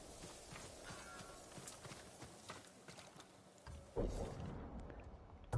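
Horse hooves clip-clop in the video game Ghost of Tsushima: a faint, steady walking rhythm with a louder burst of thuds near the end.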